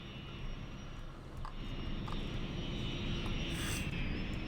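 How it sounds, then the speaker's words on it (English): A propeller plane in Cities: Skylines gives off a jet engine sound, a loud steady roar and whine that holds throughout with a slight swell near the end and no talking. "Gotta love how this propeller plane has the sound of a jet engine."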